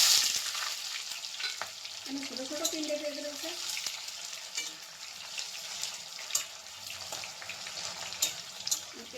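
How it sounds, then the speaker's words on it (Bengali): Spice paste fries in hot oil with cumin seeds and bay leaf, giving a steady, close sizzle and crackle with occasional stirring clinks while a voice talks over it. "পেস্টটা ভালো করে ভাজা হবে"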